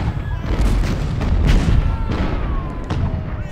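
Cannon fire from a Civil War battle in the strategy game Ultimate General: Civil War, a dense run of booming artillery shots rolling under a steady battle din with no pauses.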